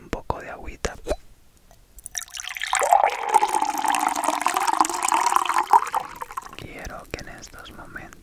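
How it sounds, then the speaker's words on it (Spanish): Water is poured into a glass close up, a steady trickling fill that rises in pitch over several seconds, with soft whispering before it begins. "voy a servirte un poco de agüita."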